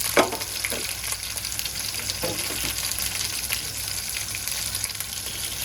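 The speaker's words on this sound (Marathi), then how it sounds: "मिरच्या आपण इथे चारी बाजूने शेकून घेऊया." Capsicum chillies roasting in a covered pan with a constant close sizzle and crackle, a few sharp pops and spoon clicks near the start, and no voices.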